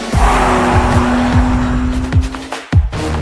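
A 2021 BMW M3 driven hard at the Nürburgring Nordschleife, loud engine roar with shifting pitch, tire squeal and skidding as it corners, with revs rising and falling and a brief dip near the end.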